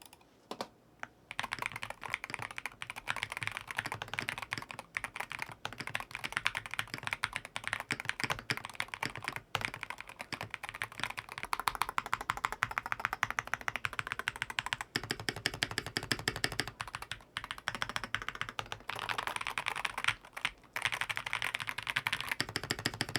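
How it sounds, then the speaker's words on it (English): Continuous fast typing on a stock, unmodded magnetic mechanical keyboard, with dense clacking keystrokes close to the microphone and brief pauses between bursts. "here's the unmodded stock version of the magnetic keyboard"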